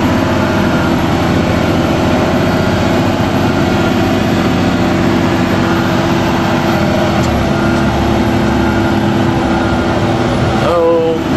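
A haul truck engine on wet ground, held at full throttle and bogging down, a loud continuous heavy low drone that strains throughout, with speech briefly over it.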